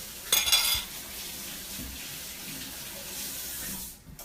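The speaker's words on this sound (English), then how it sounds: "I'm going to wash my hands." A kitchen tap runs steadily while hands are washed, a close continuous splash and hiss that starts with a brief burst and carries on for several seconds before cutting off.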